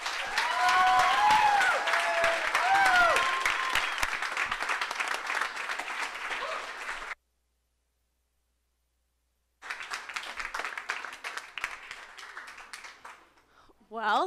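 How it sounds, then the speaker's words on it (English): An audience claps at length at a 2019 summer launch program company showcase, dense sustained applause with cheers, then a few seconds of silence before another round of clapping begins and fades out. "Let's give them one more round of applause."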